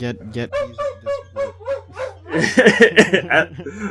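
A dog lets out a quick run of sharp, yappy barks close to the microphone, followed by a burst of overlapping voices and laughter.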